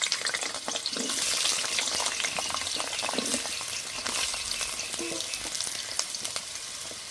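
Potatoes frying in plenty of hot oil in a wok for a vegetarian potato and eggplant curry, giving a steady, loud broadband sizzle with crackling spits and occasional stirring throughout, no voices.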